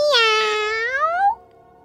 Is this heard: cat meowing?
yes